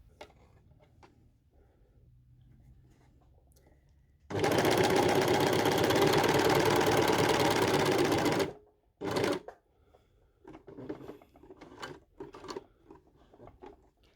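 A serger overlocker stitches along the edge of fabric in one loud, continuous whirring burst of about four seconds. A short second burst follows, then quiet handling sounds.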